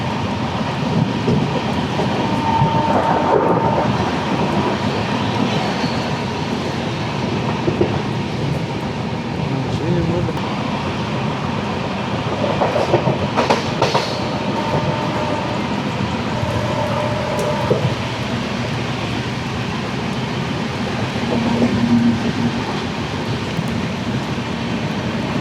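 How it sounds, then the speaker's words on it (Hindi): The Jharkhand Swarna Jayanti Express, running from Ranchi to Delhi in heavy rain, gives a steady, dense rumble with faint clickety-clack from the carriages and the wash of rain, heard from inside the train, with a voice talking at times over roughly 25 seconds. "यहाँ पे खतरनाक बारिश में चल रही है ट्रेन जर्नी।"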